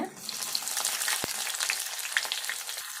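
Dried red chillies and onions fry in hot tempering oil, a dense, close crackling sizzle that stays steady throughout, with one sharp pop partway through.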